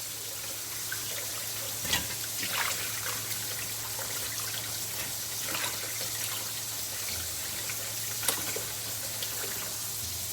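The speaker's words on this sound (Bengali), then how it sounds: "ধোয়া শেষ, ভালো করে ধুয়ে নিলাম।" Leafy greens washed for a poa fish and vegetable curry, water running and trickling steadily with faint splashes and a few sharp clinks of a pot, a low hum underneath.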